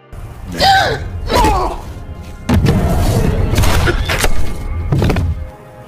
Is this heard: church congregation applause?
no